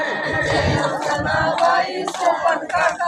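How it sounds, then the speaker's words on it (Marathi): Hands clap in rhythm during devotional name-chanting at a Hanuman temple's Harinam Saptah, loud and close, mixed with a crowd's voices singing together. "कशी टाळ्या वाजल्या."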